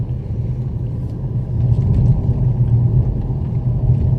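An inexpensive Mercedes drives after a transmission repair, a steady low engine and road rumble from inside the car that swells slightly as it pulls along, with no talk.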